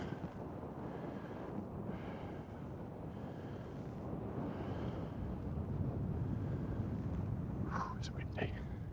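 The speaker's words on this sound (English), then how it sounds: "It's windy." Steady wind rumbles and buffets the microphone throughout, a broad low roar with no clear talk, plus a few faint higher-pitched noises near the end.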